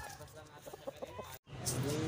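Several short clucks from chickens pulse in a steady run, then a brief gap gives way to a noisier farmyard bustle.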